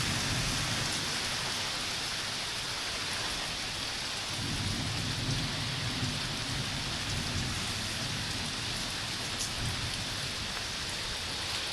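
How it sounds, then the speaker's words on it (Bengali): Heavy rain pours steadily during a storm, a loud constant hiss with low rumbles of thunder rolling underneath throughout. "দেখো বৃষ্টি হচ্ছে কিরকম"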